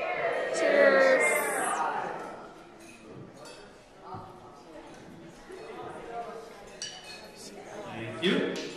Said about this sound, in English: if everybody will raise their glass and a toast for me